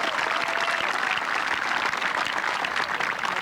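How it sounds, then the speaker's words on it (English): Steady applause from an audience at a golf tournament trophy presentation honoring players who shot their age, a dense even patter of many hands clapping continuously at moderate distance without pause. "how about a warm welcome and a loud applause?"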